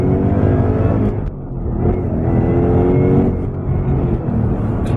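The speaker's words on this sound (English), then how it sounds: "here's a little second gear pull with 670 horsepower" A Roush-supercharged 2017 Ford Mustang GT making 670 horsepower pulls hard in second gear, its engine roaring loudly and rising steadily in pitch from the cabin, with a brief dip midway.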